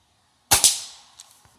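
A Gamo Whisper Fusion Mach 1 .22 air rifle fires once outdoors at tipping targets, a sharp close crack with a quick double pop, followed by faint distant tinks from downrange.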